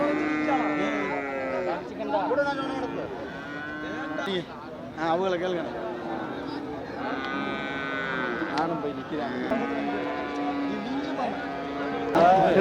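Cattle at the Manapparai cattle market in Tamil Nadu, including Kangayam plough bulls, moo repeatedly in long, loud calls close by. Crowd chatter and background talk run underneath.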